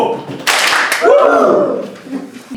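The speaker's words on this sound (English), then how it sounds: "Let's give them the full clap. Go!" An audience breaks into a full round of clapping at a youth-led climate-resilient food systems gathering, a dense burst of hand claps that starts abruptly and swells loudly, mixed with cheering voices and fading toward the end.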